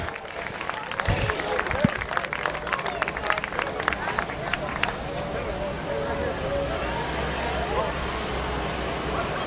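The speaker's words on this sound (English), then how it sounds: "Give a big round of applause to Derek Gruel, your adult winner." A crowd at Midvale Speedway claps and cheers for a race winner, a dense burst of applause that fades into a steady roar of outdoor crowd noise.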